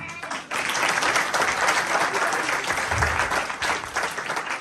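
A church congregation claps hands, a brief quiet moment giving way to a full burst of loud, dense clapping that holds steady to the end.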